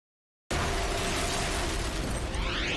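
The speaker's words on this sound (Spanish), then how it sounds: "Una serie de explosiones desgarra la ciudad de Nueva York." A dramatised reconstruction of a series of explosions tearing through New York City: a sudden loud blast that turns into a dense, roaring rumble lasting a couple of seconds.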